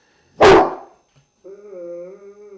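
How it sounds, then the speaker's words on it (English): Neighbor's dog letting out one loud, sharp bark nearby, followed after a short pause by a drawn-out whining howl, heard alone without talk. "It's just the neighbor's dog."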